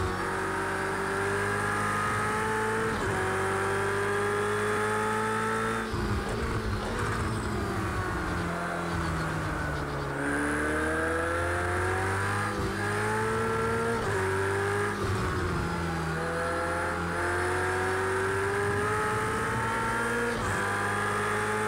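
Race car engines scream and rev continuously through gear changes in Project CARS 2, a loud, dense roar of several cars with rising and falling pitch and occasional tire noise.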